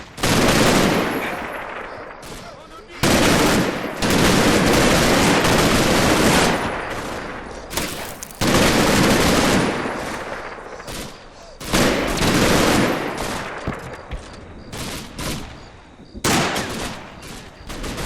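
Sustained machine-gun bursts and rattling volleys from two MG teams in the WWII tactical game Combat Mission: Red Thunder, loud and close, with repeated long automatic strings broken by short pauses.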